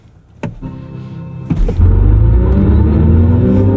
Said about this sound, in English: That is a hard launch though.